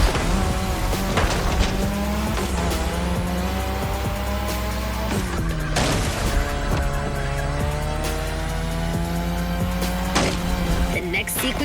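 A car drifting in The Crew Motorfest, its engine revving hard and its tires squealing in long continuous screeches, loud and close, with gear-shift dips and a voice talking over it.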